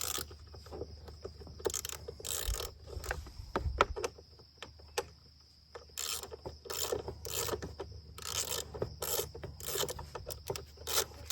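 8mm wrench working a loosely tightened bolt on the white side panel of a Honda CRF250F dirt bike, giving close, repeated ratcheting clicks and scraping bursts in short runs with brief pauses between.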